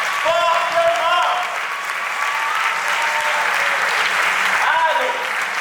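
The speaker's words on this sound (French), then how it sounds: "J'aimerais que tu acclames fortement pour la vie." A conference audience applauds loudly and steadily, with dense clapping that swells again near the end while a voice speaks over it.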